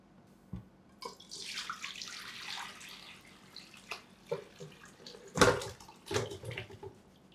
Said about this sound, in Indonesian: kita tinggal tuang aja ini ke dalam rice cooker